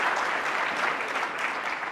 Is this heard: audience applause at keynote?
yes